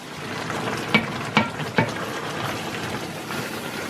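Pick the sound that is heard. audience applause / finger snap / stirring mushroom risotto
stirring mushroom risotto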